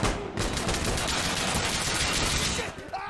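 Sustained, dense automatic gunfire in the Insurgency: Sandstorm video game, dozens of close, loud rounds fired in rapid bursts against a wall for about three seconds before cutting off abruptly.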